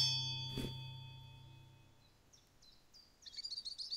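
A swift's bird call plays in the Wingspan board game: a bright chime rings out first, then thin, high chirps and tweets repeat faintly before rising into a quick, louder twittering burst.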